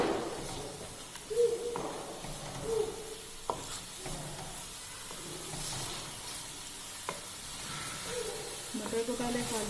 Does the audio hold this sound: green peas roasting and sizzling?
yes